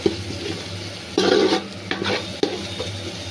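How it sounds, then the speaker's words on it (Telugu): Coconut paste with garam masala fries in a pan for a chicken biryani, giving a close low sizzle with bursts of stirring and scraping from a utensil, and no voices. "ఇప్పుడు కొబ్బరి పేస్ట్ కూడా వేసుకున్నామండి. ఇది బాగా వేయించుకోవాలండి, పచ్చివాసన పోయే వరకు."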